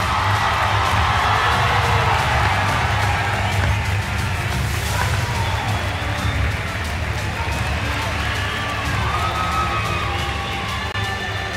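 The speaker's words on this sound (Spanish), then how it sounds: "un fuerte aplauso, están entrando los dos" A large audience at a live presentation event in Barcelona breaks into sustained applause and cheering as two guests walk in, a dense, loud, steady wash of clapping and crowd noise throughout.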